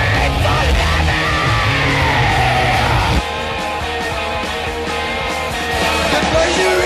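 A crowd at a Lemmy tribute concert screams and yells continuously, a loud dense roar of many voices that dips slightly midway and then keeps going.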